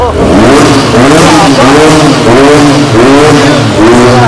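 A used motorcycle offered for sale is revved hard several times in a row, the engine note loud and close, surging up and dropping back in repeated waves.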